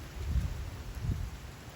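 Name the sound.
wind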